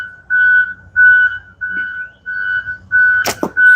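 A construction skid steer backing up sounds its reverse alarm, a steady series of loud, evenly spaced beeps repeating close by with a brief knock partway through.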